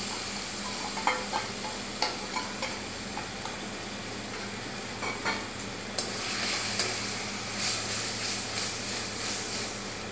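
Spice masala with whisked yogurt frying for a restaurant-style soya chaap gravy, a continuous sizzle with repeated spatula taps and stirring scrapes, growing brighter partway through.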